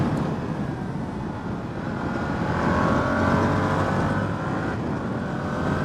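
A Yamaha YZF R7 motorcycle being ridden on an open road, its engine a continuous droning hum mixed with rushing wind noise, steady and fairly loud throughout with no talking.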